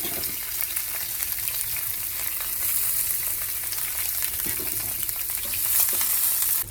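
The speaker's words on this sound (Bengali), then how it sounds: "এবার কারি পাতাগুলো দিয়ে দিচ্ছি এবার দিয়ে দেবো পেঁয়াজ" Curry leaves and onion crackle in hot oil with a loud, continuous sizzle, punctuated by occasional stirring scrapes, with no voices.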